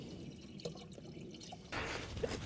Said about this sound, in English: I pour it into my lifesaver to filter it.